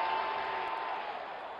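Cricket stadium crowd at an India versus Australia T20 match in Mohali roaring and applauding after a six, a dense, steady wash of cheering that fades slightly over a moment.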